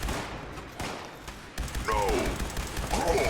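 Gunfire in Fallout 76 gives a few sharp, separate cracks against a busy game backdrop with whistling, chirping effects, while someone talks over it.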